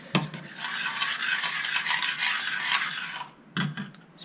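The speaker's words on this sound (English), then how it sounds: "So just keep stirring it so that it doesn't stick to the bottom" A spoon scrapes and rubs continuously through thick methi matar malai curry in a pan on low flame, a steady close rasping stir with a sharp knock at the start and another near the end, no voices.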